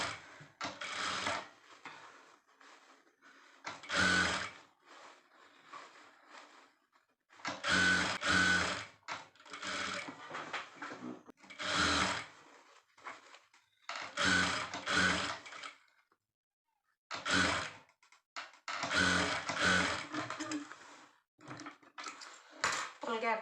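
Sewing machine stitching the top seam of a blouse puff sleeve, running in repeated short bursts of close mechanical whirring separated by pauses, with a voice talking in between.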